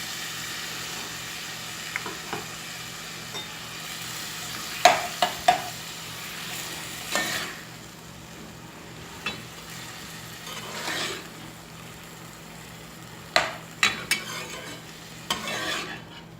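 Tomato and pepper sauce sizzles in a frying pan for Trinidad smoked herring while a spoon stirs and scrapes it, a steady close hiss broken by repeated soft scrapes and clinks.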